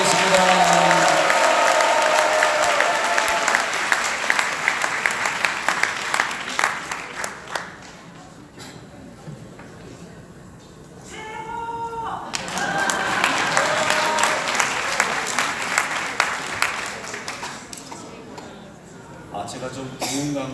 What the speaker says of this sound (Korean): 우리 다시 한번 하나님께 영광의 박수를 드리겠습니다.